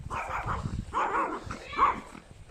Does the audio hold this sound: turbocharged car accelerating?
no